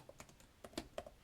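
A handful of soft, distinct keystrokes on a computer keyboard entering a short word, quiet and close with uneven spacing, nothing else audible.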